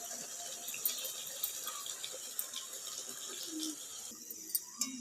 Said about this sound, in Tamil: தண்ணி ஊற்றி கொதிக்க வச்சுக்கலாம்.